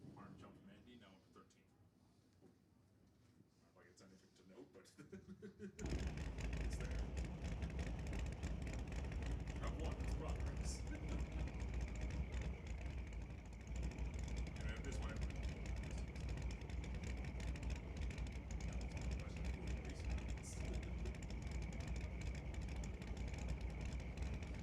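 Drag racing cars idling at the start line at a Doorwarz drag event, quiet ambience giving way abruptly to a loud, steady engine rumble that holds for the rest of the stretch, with someone talking over it.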